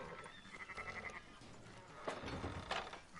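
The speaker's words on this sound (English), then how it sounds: "Fine sheep." Sheep in the video game Red Dead Redemption 2 bleat a few times, with a short wavering call standing out over faint background ambience.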